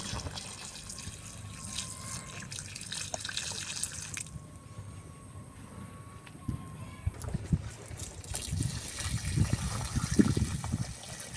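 Water is poured onto moringa and papaya plants in a garden, splashing and trickling in uneven bursts, with a person talking quietly in between.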